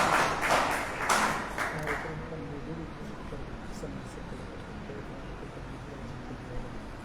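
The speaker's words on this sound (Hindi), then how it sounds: "तालियों के साथ स्वागत के साथ उनको डैश पर बुलाएं" Brief bursts of audience clapping and taps at the start, fading after about two seconds into a murmuring hall as a speaker is welcomed to the dais.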